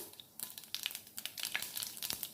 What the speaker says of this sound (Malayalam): കടുക് പൊട്ടി വരുമ്പോഴത്തേക്കും